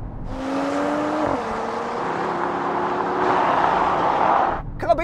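Cars in a drag race, among them a diesel Audi S4, roar away together in a loud, sustained rush of engine noise. A tonal whine drops in pitch at a gear change, and the roar cuts off abruptly at the end.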